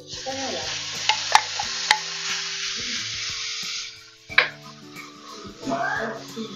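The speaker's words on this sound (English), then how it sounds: "So basically we just want to render the bacon, render the fat." Bacon frying and rendering its fat in a pan, a steady sizzle with spatula scrapes and a few sharp pan knocks, while a person talks over it.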